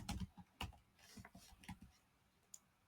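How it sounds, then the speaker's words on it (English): Faint, quick keystrokes patter on a computer keyboard as a command is typed into a Kali Linux virtual machine, irregular clicks at close range in a quiet room. "Next, we'll type this following command"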